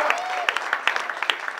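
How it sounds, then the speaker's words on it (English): Scattered applause from a comedy show audience, individual claps standing out sharply and fairly close, with a few crowd voices mixed in behind them. "I deserve an applause break."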